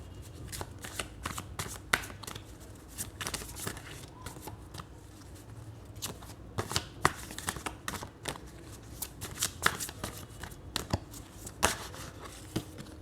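Tarot cards being shuffled by hand, a quiet close run of rapid riffling flutters and soft slaps that comes in irregular bursts over several seconds, with no talk.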